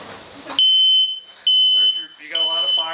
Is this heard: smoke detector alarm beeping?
yes